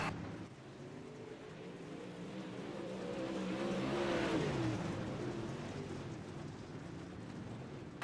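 Dirt race cars on the final lap, heard from a distance as engines swell toward a peak, a passing whine bending down, then recede.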